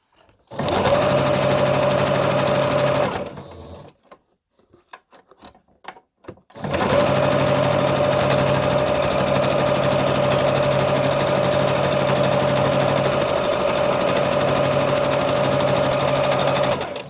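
A sewing machine runs a straight stitch in a loud, steady, close hum for about three seconds, pauses with faint clicks, then resumes and keeps stitching continuously for roughly ten more seconds.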